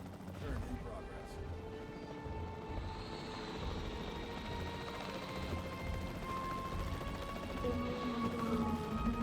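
In Jurassic World Evolution 3, a capture team helicopter thrums with a low, pulsing rotor rumble, mixed with busy game effects and distant gunfire-like pops that swell toward the end.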